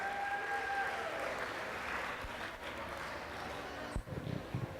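Guests at a school sports banquet give a round of applause, a steady wash of many hands clapping at moderate distance, with a faint tone at the start and a few thumps near the end.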